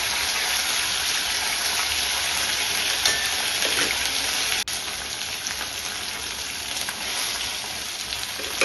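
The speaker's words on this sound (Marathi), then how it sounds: "आता आपल्याला हे सर्व साहित्य तेलामध्ये परतून घ्यायचं" Green chillies and spices sizzle steadily in hot oil, a dense continuous frying hiss with faint stirring clicks, close and fairly loud throughout.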